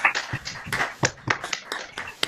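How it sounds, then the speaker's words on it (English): Orchestra musicians applauding their audience at a symphony concert, a sparse, uneven scattering of claps and taps rather than full applause, fairly close and clear. "Musicians, could we please applaud our audience?"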